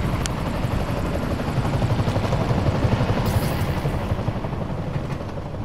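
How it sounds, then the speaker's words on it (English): Helicopter in the video game Marvel's Spider-Man gives off a loud, continuous rotor thrum with rapid low chopping that swells slightly midway, alone with no talk. "I gotta follow the helicopter."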